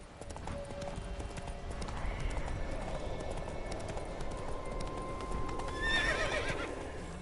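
Roach, Geralt's horse in the video game The Witcher 3: Wild Hunt, gallops with a steady, rapid clip-clop of hooves, and near the end a high whinny rises over the hoofbeats.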